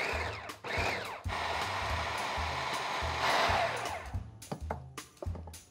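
A kitchen blender whirs steadily while blending pistachio ramp pesto, running loud and continuous for several seconds before the motor winds down into brief stops and restarts near the end.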